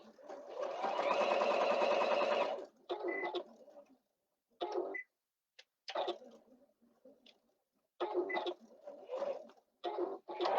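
A sewing machine stitches a bag lining, starting with one long steady whirring run and then giving short bursts separated by pauses, loud and close.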